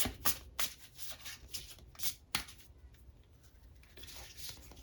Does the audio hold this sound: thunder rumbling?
no